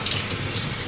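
Tap water runs steadily into a sink while ripe peaches are rinsed under it, a continuous close hiss with no voices.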